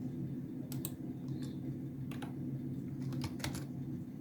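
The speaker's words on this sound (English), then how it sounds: "What's going on my keyboard" Fingers tap on a computer keyboard in scattered bursts of sharp clicks and keystrokes over a steady low background hum, close and fairly quiet.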